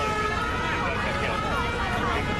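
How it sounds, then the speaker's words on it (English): Wailing sirens rise and fall through a dense, steady wash of crowd noise and distant chatter, loud and continuous throughout. "Listen past the sirens"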